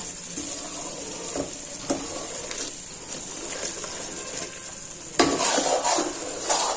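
Edible gum (gond) fries and puffs in a pan while being stirred for kachi khand adadiya, a steady hiss of sizzling with soft scraping strokes and a louder surge of frying near the end.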